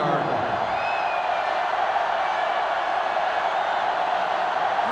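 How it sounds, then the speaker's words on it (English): Steady roar of a sellout stadium crowd in the NCAA Football 2005 video game during a Michigan versus Michigan State rivalry match, a dense, even wash of noise that holds constant throughout. "The sellout crowd is really making a difference now as these guys can't even call the play."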